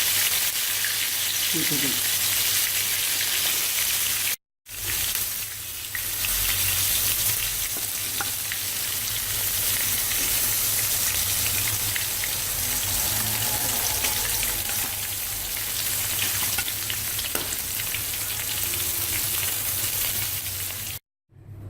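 Stuffed karela, bitter gourd filled with keema, fries in hot oil in a kadhai with a steady loud sizzle throughout, broken by a brief dropout, while someone talks over it.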